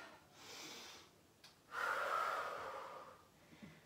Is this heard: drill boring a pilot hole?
no